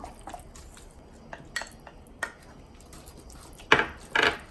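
Tuna stir-fried with oyster sauce, garlic and seasoning in a pan, with sparse clinks and scrapes of a utensil against the pan, then two louder sizzling scrapes near the end, close, with no speech.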